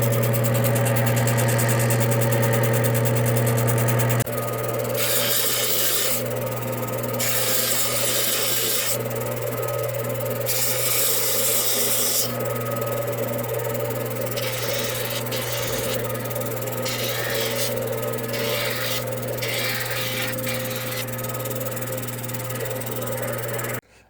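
A cabbing machine grinds a Fordite cabochon on 325 and 600 grit wheels, giving a steady motor hum with gritty rasping and rubbing that swells and fades in bursts as the stone is pressed to the wheel.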